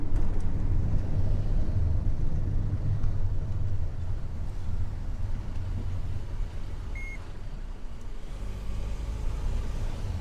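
A VW California camper van cruises along a French motorway past a congestion queue, giving a steady, loud rumble of engine and road noise with no breaks and no voices.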